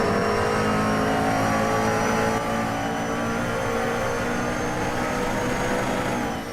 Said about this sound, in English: Simpler Marcus is driving an Audi R8C from 1999.